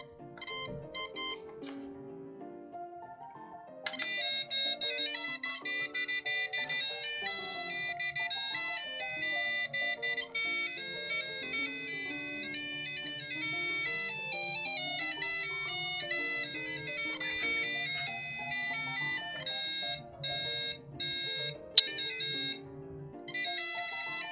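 A bright electronic alarm melody plays continuously from a square digital music clock, tinkling notes repeating in a steady looping tune, loud and close with no voices.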